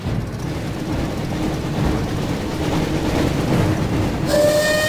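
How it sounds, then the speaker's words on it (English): A video-game train in Harry Potter and the Chamber of Secrets on PS1 rumbles past with a continuous rattling clatter, ending in a bright, sustained whistle-like tone near the close. "Looks like we found the train, Ron."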